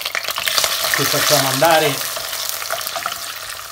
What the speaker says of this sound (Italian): il nostro aglio sta friggendo, adesso aggiungiamo i pomodorini